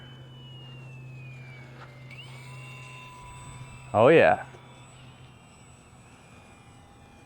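A UMX Turbo Timber Evolution RC plane makes a low pass, its thin electric motor whine sliding downward in pitch as it goes by, with a short spoken exclamation near the middle over the fading buzz.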